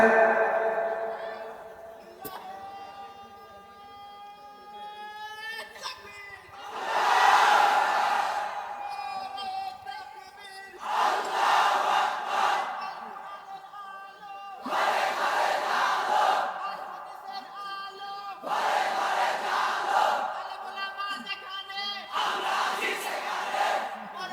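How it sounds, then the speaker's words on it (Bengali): A large crowd at a Bangladeshi Islamic sermon gathering shouts the takbir together in several loud, sustained unison chants, with a preacher's raised voice calling out between the crowd's responses. "আপনি আবার তাকবীর দেন, আগের মতোই দিবেন, সেই লেভেলে।"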